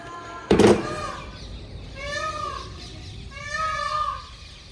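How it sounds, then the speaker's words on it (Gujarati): After a sharp knock, a peacock lets out two loud, drawn-out, wavering calls, fairly close and otherwise alone. "મોર આવ્યો છે"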